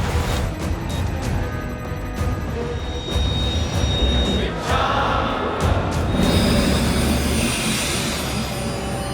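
A moving express train rumbles steadily on the Surat–Mumbai route, a loud continuous roar with rattling and clanking of carriages, while voices are faintly heard within the noise.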